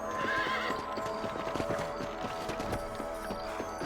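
Hooves clatter in a quick, steady rhythm while a horse whinnies, with a soft musical drone running underneath, in the video game Red Dead Redemption.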